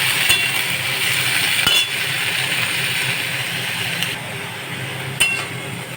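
Water lilies being stirred in hot oil in a pan, a steady soft sizzle with occasional clinks of a spatula or spoon against the metal, close and continuous.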